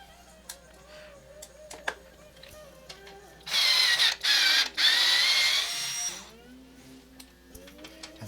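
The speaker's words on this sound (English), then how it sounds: "watching me take some screws out is not very exciting" Screws being driven out of a be quiet! Silent Base 802 PC case with a powered screwdriver, heard as three loud whirring bursts in quick succession, close up, with faint clicks and handling noises before and after.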